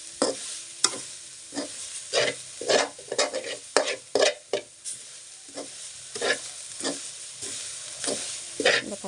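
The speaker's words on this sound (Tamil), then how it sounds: "இனி தேங்காய் போட்டு கிண்டிட்டு இறக்க வேண்டியது." Grated coconut is stirred in a hot frying pan, with repeated scraping strokes of a spoon against the pan over a light sizzle, close and fairly clear.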